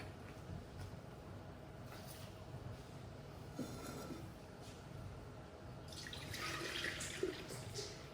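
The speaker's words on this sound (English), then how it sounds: "we're going to put this milk in our drinking jug" Fresh milk from a family cow streams steadily into a drinking jug, a soft continuous splashing and trickling that grows a little brighter toward the end, with no voices.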